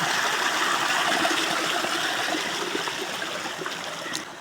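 Water runs steadily along an irrigation channel beside orchards in a village, a constant close rushing trickle that fades slightly toward the end.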